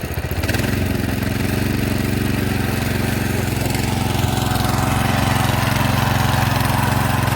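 A tractor engine runs a rotavator at medium throttle in second low gear, a loud close steady drone with a constant mechanical chatter throughout and no pauses.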